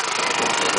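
Inflatable boat driven by a lawn mower engine, its small motor buzzing loudly and steadily at close range in a brief burst.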